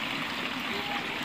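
A lemon and food colour mixture is poured over quail biryani, giving a brief, soft, steady trickle of liquid heard close but fairly quiet.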